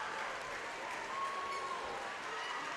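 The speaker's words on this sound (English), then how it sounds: "the Minster faithful on their hands and clapping their hands and on their feet" Basketball crowd of Minster fans at a girls' regional final clapping and applauding from their feet, a steady dense wash of applause throughout with crowd noise and a faint whistle-like tone midway.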